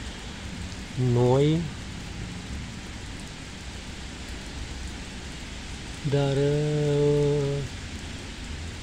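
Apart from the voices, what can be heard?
rain falling in the town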